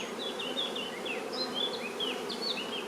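Honey bees hum steadily over an open frame from a hive with a honey super, a close, continuous buzz with individual bees' pitch rising and falling as they fly past.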